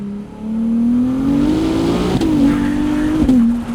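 A performance car with traction control in a sport setting accelerating hard, its engine note rising steadily with quick gear shifts that briefly dip and resume the loud, close roar.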